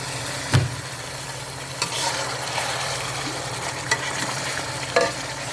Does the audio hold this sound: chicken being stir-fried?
yes